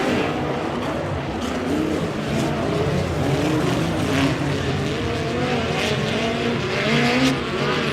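POWRi West Midget League race cars roar around the Airport Raceway dirt oval, a dense, continuous wash of engines rising and falling as cars pass, heard from the grandstand.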